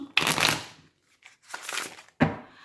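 Oracle cards being shuffled by hand for a reading, in three short riffling bursts separated by brief pauses, close and fairly quiet.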